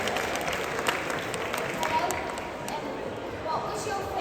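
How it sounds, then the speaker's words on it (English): A comic convention panel audience applauds steadily, with dense clapping filling the room at a moderate, even level throughout. "Give a round of applause."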